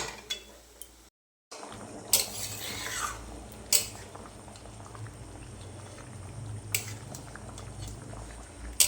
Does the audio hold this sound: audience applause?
no